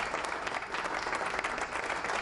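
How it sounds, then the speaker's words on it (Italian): Dense applause from a studio audience on an Italian burlesque-themed TV show, continuous and moderately distant throughout the brief stretch. "E qua voglio l'applauso! L'applauso alle curvi!"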